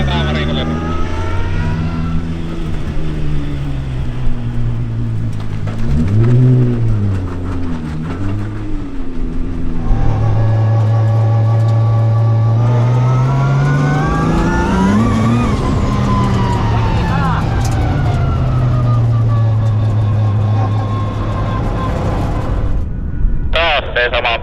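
A race car engine on a track revs up and down through rising and falling pitch, steady and loud throughout, with talking heard over it.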